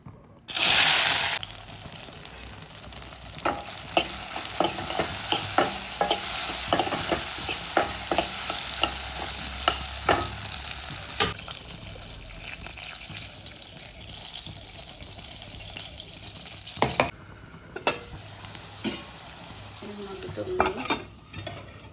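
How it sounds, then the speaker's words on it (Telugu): Green chillies hit hot oil with a sharp burst, then a steady loud sizzle continues, broken by occasional clicks of stirring. "ఫస్ట్ పచ్చిమిర్చి వేసేద్దాం ఆయిల్ ఫుల్గా వేడైపోయింది"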